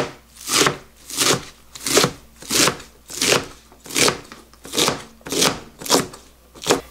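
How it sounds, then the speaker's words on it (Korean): A knife finely chops water dropwort (minari) on a cutting board while making Korean pancakes, about ten even, close, crisp thuds in a steady rhythm with no talking. "그냥 이렇게 잘게 썰어서"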